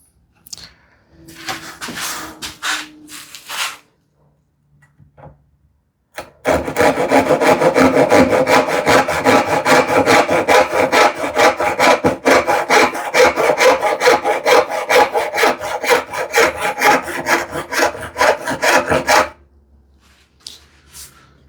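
A handsaw cuts through wood in a woodworking shop, with a few brief strokes at first, then about thirteen seconds of steady rhythmic sawing, close and loud, ending abruptly.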